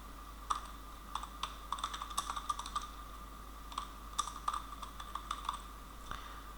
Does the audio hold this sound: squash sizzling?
no